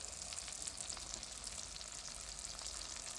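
Vegetables fry in a pan with garlic and green chili, a steady close sizzle with bright crackling spatter holding an even level for a few seconds, no voices.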